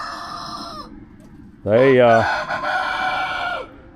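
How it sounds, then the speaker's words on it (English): Chickens on a backyard farm cluck and a rooster crows loudly and close in the middle, with someone speaking briefly nearby. "All right, so here's old chickens."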